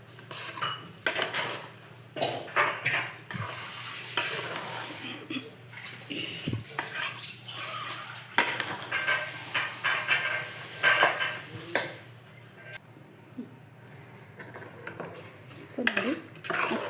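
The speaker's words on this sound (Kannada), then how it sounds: "ನೀವು ಅಕ್ಕಿಲಿ ಮಿಕ್ಸ್ ಮಾಡೋದ್ರಿಂದ ಮಸಾಲೆ ಎಲ್ಲ ನೀಟಾಗಿ ಅಕ್ಕಿ ಜೊತೆಗೆ ಹಿಡಿಯುತ್ತೆ" Rice being stirred with masala in a pan for menthe bath, with close clinking and scraping of a metal spoon against the pan over a soft sizzle, irregular strokes throughout.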